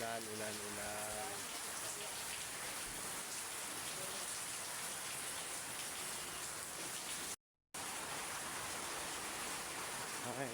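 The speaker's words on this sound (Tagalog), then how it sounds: "Ulan, ulan, ulan, ulan." Steady rain falling and pattering on surfaces outside, a dense continuous hiss throughout, briefly dropping out near the end before resuming.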